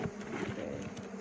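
Honeybees settling into a newly transferred full-size hive after a nuc move, a soft, continuous low buzzing hum close by, with no voices.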